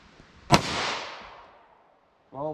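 A single sharp gunshot from a 9mm pistol with a 5-inch barrel firing Winchester Silvertip ammunition, loud and close, with a long decaying echo, followed briefly by a voice.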